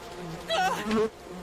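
Bees buzz in the video game We Happy Few, a short, close insect drone that swells twice within about a second over quiet game background.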